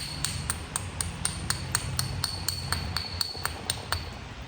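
Tallahatta quartzite is knapped into a Clovis point, with overshot flakes struck off the stone: bright, glassy clicks and pings come about every quarter second in a regular rhythm over low background rumble, close and crisp.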